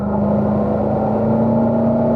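A car on a race track coming out of a turn holds a steady, loud engine drone with a strong whirring tone, close and continuous, no voices.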